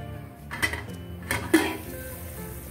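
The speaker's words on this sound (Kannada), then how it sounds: "ಈಗ ಮುಚ್ಚಳ ಮುಚ್ಚಿ ಒಂದು ಹತ್ತು ನಿಮಿಷ ಕುದಿ ಹಾಕ್ತೀನಿ" A metal lid clatters onto a cooking pot of dal and rice on the stove, a few short knocks and clinks of metal close by, fairly quiet, with no talking.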